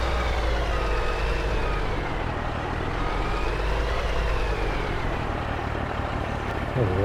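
A truck rumbles as it is driven and parked in Farming Simulator 22, a loud, steady engine drone with slowly rising and falling pitch and a brief shift near the end.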